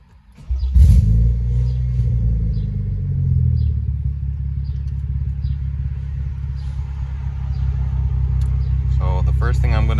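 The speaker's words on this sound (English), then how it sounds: "So now I'm gonna actually start the car and see how the car behaves." A first-generation BMW B58 engine cranks and fires up, then settles into a steady, loud idle rumble with a brief rev swell near the start and another rise toward the end.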